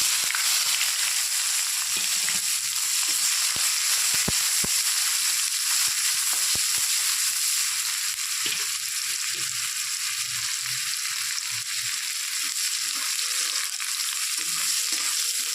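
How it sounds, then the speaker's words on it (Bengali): Chopped onion frying in hot oil with crushed cardamom and cumin, a steady loud sizzle close by with intermittent clicks and scrapes of a spatula stirring the pan. "পেঁয়াজটাকে এক মিনিট ভেজে নেব বেশি ভাজার দরকার নেই"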